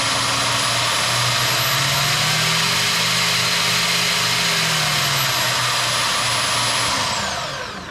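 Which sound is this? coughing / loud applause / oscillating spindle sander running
oscillating spindle sander running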